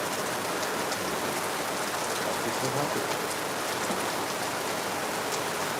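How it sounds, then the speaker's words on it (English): Steady rain falls in Lagos, a dense even hiss of drops on surfaces that continues unbroken, with a voice speaking briefly under it. "I like it when I hear the sound of rain."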